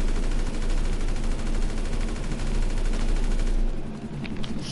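Sustained rapid gunfire from a GTA Online deathmatch, loud and dense with fast repeating bursts across the whole stretch, easing slightly near the end.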